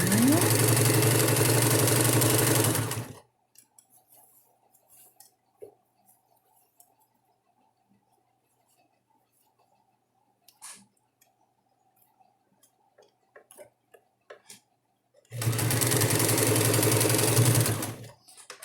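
A sewing machine stitches fabric for a double-sided diaper changing pad. It gives a loud, steady mechanical run, then a long quiet pause with faint clicks before the machine starts again.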